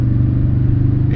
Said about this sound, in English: and it sounds awesome with the JBL fed-in sound.